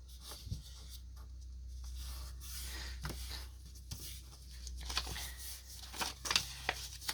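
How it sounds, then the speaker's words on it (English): Origami paper is folded in half and creased by hand while making a lotus flower: soft, close rubbing and papery swishes with a few sharper crinkles and taps, over a low steady hum and no talk. "Fold in half."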